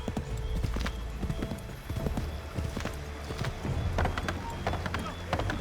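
Horse hooves clip-clop steadily and close while riding in Assassin's Creed III Remastered, with an occasional whinny and game voices talking over the hoofbeats.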